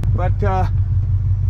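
A cheap, battered old Ford with a damaged hood, windshield and tire idles with a steady low rumble throughout, while someone talks briefly over it.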